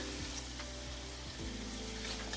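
Quiet, continuous sizzling of chilies sautéing in a pan, a faint crackling hiss with occasional soft stirring sounds.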